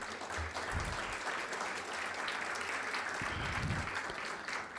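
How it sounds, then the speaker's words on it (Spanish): An audience at a history talk in Saltillo applauds in a sustained, even wave of clapping that fills the room and holds steady throughout, with no one speaking over it. "la maestra Emma Reina, cronista de Zaragoza, para quien pido un aplauso."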